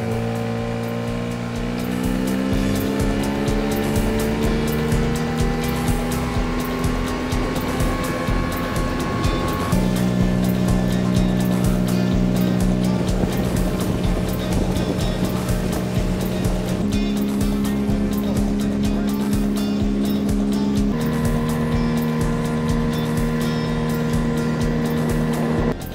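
A Mercury ME9.9MH 169 cc outboard motor runs steadily at high revs during break-in, about 4000 rpm at three-quarter throttle, a loud continuous drone whose pitch shifts a few times as the throttle changes, with water noise underneath.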